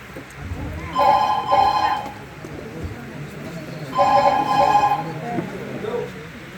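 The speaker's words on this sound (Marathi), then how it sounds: "कुणाचा फोन?" A telephone rings twice with bursts of electronic trilling, set in a Marathi family stage drama, heard amid room noise and background activity.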